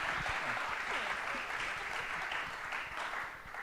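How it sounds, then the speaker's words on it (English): A conference audience applauds panelists at a chatbot event, dense sustained clapping that starts at full strength and tapers slightly near the end, with no speech over it. "give our panelists a round of applause"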